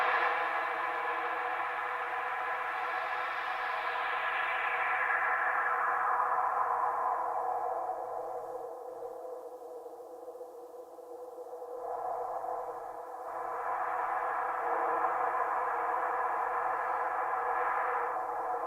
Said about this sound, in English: We blow it to smithereens with internal reverb